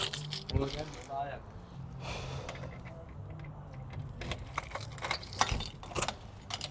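Keys jingle and clink softly in a quiet room while people talk nearby, with a few scattered light rattles.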